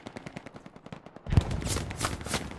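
Bursts of machine-gun fire erupt in the World War II shooter Hell Let Loose, first as faint distant rattling and then a loud, close sustained volley of rapid shots with no talking.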